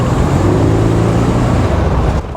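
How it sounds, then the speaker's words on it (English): A Pontiac Trans Am Turbo 20th Anniversary Edition drones loudly and steadily with a rising turbocharger whine layered on top, cutting off abruptly at the end. "hear the turbo. You can't hear the engine. Only the turbo."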